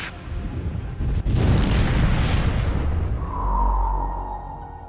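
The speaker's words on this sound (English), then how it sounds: "if you pick the wrong missile, the whole station will blow up." A space station explodes in the PS2 sci-fi survival game Phase Paradox, a heavy booming blast that rolls on as a deep rumble and then gives way to a sustained tone.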